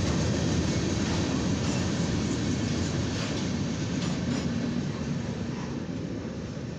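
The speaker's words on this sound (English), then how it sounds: "This has been a CSX northbound coil train." A CSX northbound coil freight train rolls past a railroad crossing close by, a loud, continuous rumble of wheels clattering over the rails at a steady pace.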